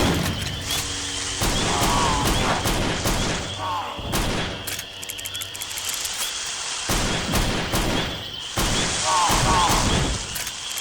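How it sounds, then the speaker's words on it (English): Shotgun in the CountryCide video game blasting at enemies, a series of loud sharp booms spaced irregularly a second or two apart, with pump-like mechanical clacks between shots and a voice talking underneath. "let's clear them out a little bit with the shotgun"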